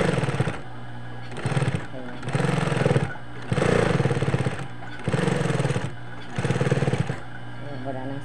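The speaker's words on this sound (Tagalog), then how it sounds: "tinatahi natin yung ating basahan na ito ay may order sa akin" A sewing machine stitching a rag rug runs in bursts of rapid mechanical whirring, about half a dozen close, loud runs separated by short pauses.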